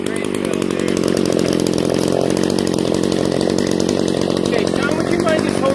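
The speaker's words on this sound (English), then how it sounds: "Cutting trees." A chainsaw cutting trees roars loudly and steadily close by, its engine buzzing without pause throughout.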